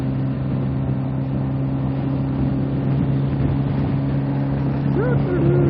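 A steady car engine drone with humming tones fills the clip, rising slightly toward the end as the car speeds up to pass a truck on the highway.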